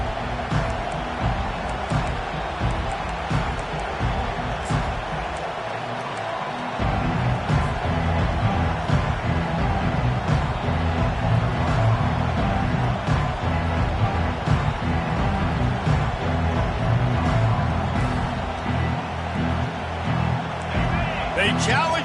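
Nebraska football stadium crowd roaring in a steady, dense wall of noise, swelling louder after the kickoff and holding loud throughout, with a commentator talking over it.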